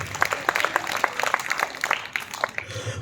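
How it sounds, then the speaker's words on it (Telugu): A congregation at a gospel and revival meeting in Chinthareddy Palem claps in a dense, steady patter of many hands, briefly and without speech. "బిగ్గరగా చప్పట్లు కొట్టి దేవుని మయపరచండి"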